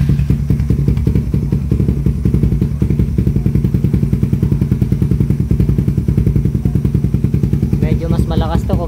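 Raider 150 Fi motorcycle fitted with a high-mount shorty power pipe exhaust idles loud and close with a steady, rapid popping rumble, blipping briefly near the end.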